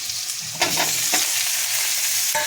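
Tomatoes tipped into onions frying in oil for a brinjal curry, giving a loud continuous sizzle with a burst of spattering and stirring scrapes near the start, then steady frying hiss.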